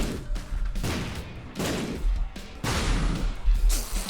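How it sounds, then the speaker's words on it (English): Several heavy, booming bomb blasts in The Binding of Isaac, a video game, land in a loud, dense run of crunchy explosive bursts with short gaps between them. "I just ran into my own bomb"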